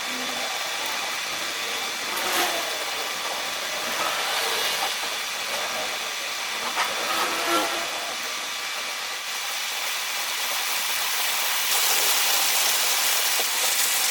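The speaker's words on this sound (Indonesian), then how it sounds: "Panaskan minyak goreng dan goreng hingga kering," Lumpia fry in hot oil that sizzles and hisses steadily with faint crackles throughout, a constant bright frying noise close by and without any talking.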